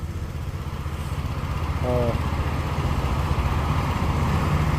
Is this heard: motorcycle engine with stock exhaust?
yes